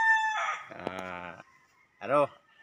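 Roosters crowing at a small backyard gamecock farm, two loud nearby crows in quick succession, the second shorter, with some clucking before them.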